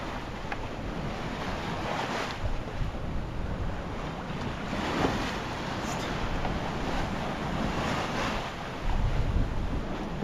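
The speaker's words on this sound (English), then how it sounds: "we got up to 19 knots of wind coming through here" Steady wind of around 19 knots roaring over a sailboat as it passes Atka Island in Alaska's Aleutian chain, with waves surging and washing against the hull in slow swells, loud and continuous, no voices.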